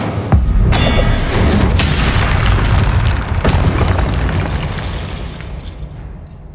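A booming fire-spell explosion from a wizarding game bursts loud and close, then rolls into a long roaring rumble that slowly fades over several seconds.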